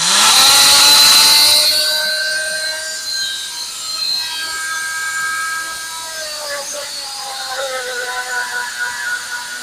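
A faulty Fein oscillating multitool with a malfunctioning spindle and oscillating cutter whines loudly at start-up, then settles into a wavering, buzzing drone that carries on throughout.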